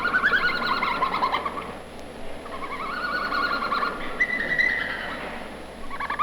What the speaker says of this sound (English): Instead, they make a sound called a twitter.